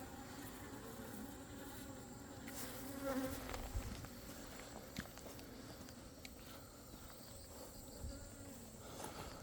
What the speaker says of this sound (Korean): 요놈이 지금 흑말벌이 엄청나게 많이 들어와요